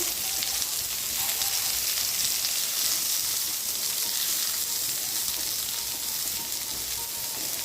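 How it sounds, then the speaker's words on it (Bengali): Chunks of pointed gourd sizzle and crackle in hot oil in a pan, fried for a vegetarian ghonto; a steady, close, dense frying hiss runs evenly throughout with no talking. "পটলগুলো আমি ভাজা ভাজা করে নিচ্ছি।"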